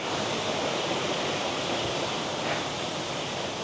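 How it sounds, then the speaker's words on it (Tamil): A waterfall at Kurangani, Tamil Nadu pours in a dense, continuous roar of falling water, loud and unbroken, with no voices. "முன்னாடி எப்படி அருவின்னு பாருங்க."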